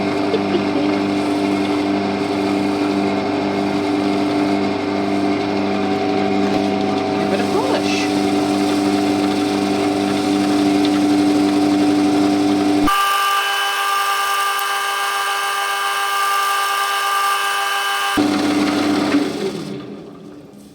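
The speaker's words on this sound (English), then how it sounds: "I am getting better at sanding." A power sander working an oak bowl whines steadily with a buzzing tone, then cuts to a higher, cleaner motor hum for several seconds before the grinding returns and trails off.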